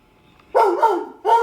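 After a quiet moment, a nearby dog lets out loud barks, two close together and then another a beat later.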